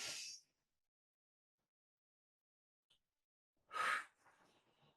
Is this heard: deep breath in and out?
yes